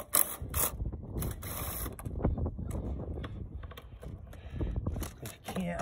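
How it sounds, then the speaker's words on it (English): A small impact wrench with a universal socket loosens mower blade spindle bolts, a loud close mechanical rattling and hammering that continues throughout with a few clanks. "If you have a little rattle gun like this, you know, with a little universal socket"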